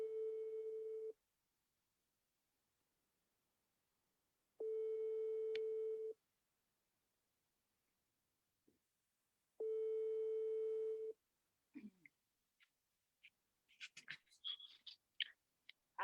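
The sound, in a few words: telephone ringing tone while placing a call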